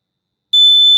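A piercing electronic alarm tone cuts in suddenly halfway through and holds steady, loud and shrill, after a moment of silence.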